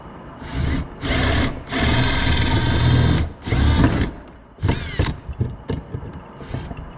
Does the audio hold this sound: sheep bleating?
no